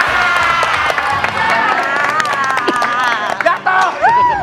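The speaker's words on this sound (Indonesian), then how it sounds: "kalau udah pada ketawa nggak usah pakai tepuk tangan" Applause and cheering from a studio audience swell loud and close across the whole stretch, with laughter and babble mixed in.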